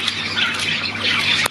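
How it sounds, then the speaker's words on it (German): A gull gives a continuous, harsh squawking call that stays fairly loud and close for the whole moment, with a brief dip near the end and no voices. "Da haben wir noch eine Möwe, ne?"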